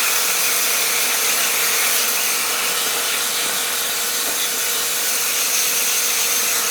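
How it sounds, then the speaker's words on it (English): A 120 volt plasma cutter slicing through steel just over 1/8 inch thick, a steady, loud broadband hiss and crackle that holds constant throughout without pause. "On a 120 volt plasma cutter."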